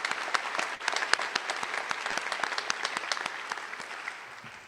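An audience at a university nursing recognition ceremony claps for the speakers, a moderately distant patter of many hands that stays fairly even before tapering slightly at the end.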